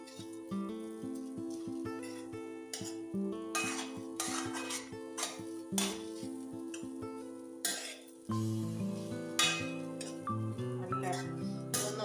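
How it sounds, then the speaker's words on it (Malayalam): Rava uppumavu is stirred in a pan, with a spoon scraping and clinking against metal in repeated strokes over quiet background tones. "നമുക്കിത് ഇളക്കിയെടുക്കാം"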